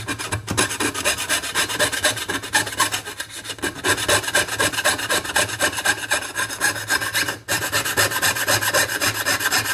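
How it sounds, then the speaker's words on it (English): A hand saw rasps steadily through a metal spatula blank being pierced, a fast continuous rhythm of close, loud strokes with one brief pause near the end. "begin sawing the next side"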